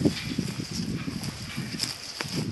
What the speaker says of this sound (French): Nos amis les poneys et les ânes.